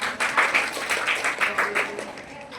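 Scattered clapping from a group at a children's values camp, with uneven bursts of hand claps over a murmur of voices, moderately close and steady throughout.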